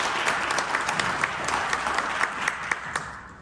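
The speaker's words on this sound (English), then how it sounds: "You guys can applaud for that." An audience at a talk breaks into applause, a dense, steady wash of many hands clapping that holds evenly, then begins to fade near the end.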